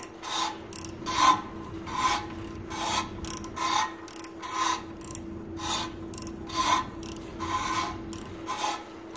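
A cylinder ridge reamer cutting the ridge from a bore in a Slant 6 engine, giving a rhythmic metallic rasping scrape about once a second with a steady hum underneath, close and moderately loud.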